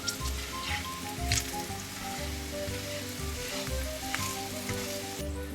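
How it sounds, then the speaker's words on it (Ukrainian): Chopped garlic, Italian herbs and ginger sizzle steadily in a hot pan for green beans with mushrooms, with soft scrapes of stirring and a constant frying hiss throughout, no voices. "Трошки просмажуємо, поки не розкриється аромат. Помішуємо."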